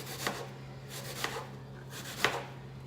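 A knife chops beef into chunks for stew, three evenly spaced, crisp cuts against a board over a low steady hum, close and moderately quiet.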